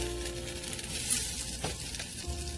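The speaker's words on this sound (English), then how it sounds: "you want to hear that sizzle, because you're going to know that the cheese is cooking" A cheese quesadilla sizzles and fries in a Cuisinart mini pan, a steady soft crackle close by with no talk over it.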